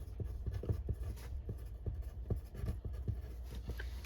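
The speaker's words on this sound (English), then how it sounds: "I'm going to go ahead and write my definitions on top" A pen writes angle definitions by hand on a surface, a run of soft irregular scratches and taps close by, with no talking.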